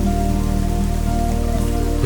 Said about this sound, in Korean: 비가 오기 시작한다.